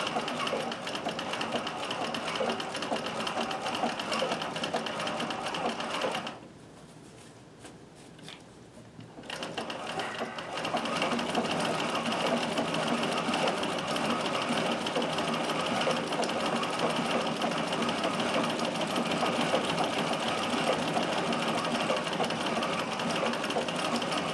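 A Singer circular stitcher model 161847 restitches fabric, running in a steady, close mechanical whir that breaks off briefly for a few seconds before resuming at full pace.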